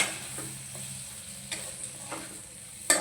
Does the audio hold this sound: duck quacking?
no